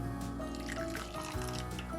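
Tap water runs steadily into a kitchen sink while burgers are being prepared, a continuous splashing trickle close by with no talking over it.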